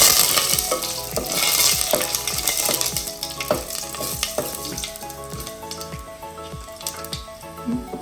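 Mustard seeds and dried red chillies fry in hot oil, a close crackling sizzle dotted with sharp popping seeds and spattering bursts throughout.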